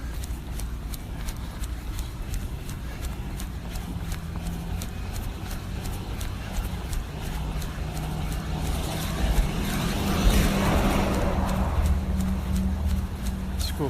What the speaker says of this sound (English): School bus just going by.